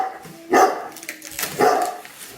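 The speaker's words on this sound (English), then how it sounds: "And she's barking." A pet dog barks indoors during a Christmas tree unboxing and setup, giving two loud, close bursts with quieter whimpering sounds between them.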